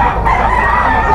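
An SBR Gilmore gamecock rooster with a straight comb crows once, loud and close, in a short burst at a pet market in Bocaue.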